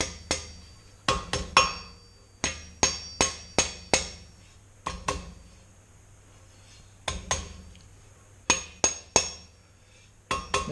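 Hammer blows ring sharply on an anvil as a hot steel rat tail is forged for a basket twist Christmas ornament, coming in quick clusters of two to five strikes separated by short pauses, close and metallic.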